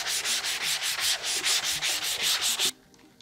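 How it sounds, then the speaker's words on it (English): Hand sanding a wooden dining table with sandpaper held in the hand: about a dozen quick, even rasping strokes back and forth in a steady rhythm, close up, then it stops abruptly. "holding sandpaper in your hand and sanding"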